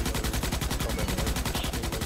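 Sustained machine-gun fire from alien bugs in the shooter game Starship Troopers: Extermination, a dense, rapid, steady rattle of shots filling the whole stretch with no pauses.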